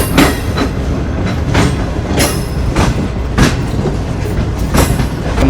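A Green Line passenger train rolls into the Rohri station yard in Pakistan, its wheels clattering loudly over rail joints in regular bursts against a steady rumble of the running train.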